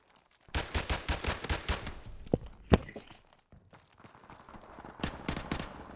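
In the Modern Warfare Remastered video game, a Dragunov sniper rifle fires a rapid series of loud, close shots, followed by a short gap and another burst of shots.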